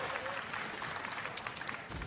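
Light scattered clapping from an esports crowd at a League of Legends match between TSM and Dignitas in the NA LCS, a steady wash of applause under arena noise throughout.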